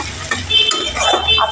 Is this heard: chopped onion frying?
yes